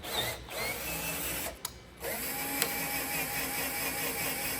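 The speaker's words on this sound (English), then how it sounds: "I just finished drilling out this big 2 3/4 inch hole for this Rincon master cutoff switch" A power drill bores a 2 3/4 inch hole for a battery cutoff switch in a battery box, a steady whining grind with two brief stops, close and loud.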